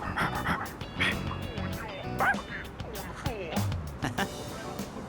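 Koromaru the dog from Persona 3 Reload whimpers and yips in short bursts over a game's music and sound effects, fairly close.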